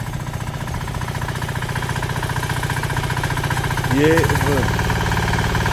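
A Sraja power weeder engine runs at a steady, hard, rapid knocking chug, loud and close, with a brief voice over it near the end.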